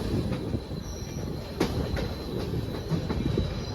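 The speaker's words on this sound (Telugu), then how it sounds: "ఎగైన్ మన ట్రైన్ అయితే దువ్వాడ నుంచి అయితే స్టార్ట్ అయిపోయింది" Passenger train pulling out of Duvvada railway station, the Janmabhoomi Superfast Express from Visakhapatnam, with steady rolling rumble, wheel squeal and periodic clacking, close and continuous with no voices.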